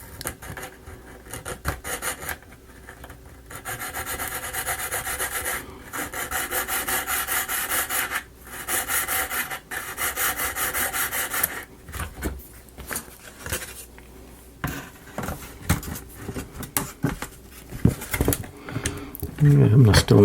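A wooden part for a model locomotive is bevelled by hand with a rasp or sandpaper: bursts of close, gritty rubbing strokes of a few seconds each, separated by pauses, with a voice heard at times.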